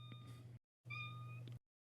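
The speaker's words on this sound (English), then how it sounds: "Oh, my cat's here." A pet cat meows twice nearby, each call a drawn-out, tonal cry with a short pause between them, loud and clear over a quiet indoor room with no talking.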